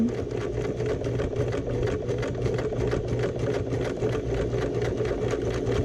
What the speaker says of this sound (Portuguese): troca a agulha 14 por uma agulha 16 para poder fazer essa costura